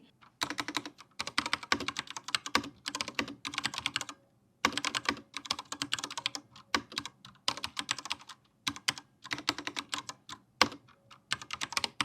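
Rapid clacking keystrokes on a mechanical keyboard, close and crisp, in uneven bursts with brief pauses.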